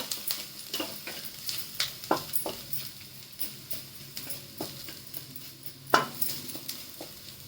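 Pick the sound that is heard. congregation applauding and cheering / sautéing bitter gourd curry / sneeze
sautéing bitter gourd curry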